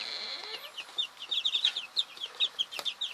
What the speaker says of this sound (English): These are just a standard white laying hens.